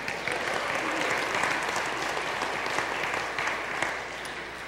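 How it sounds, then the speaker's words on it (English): A church congregation applauding, a steady dense wash of clapping from many hands that stays loud for several seconds before easing slightly at the end. "well, we can clap for that, can't we?"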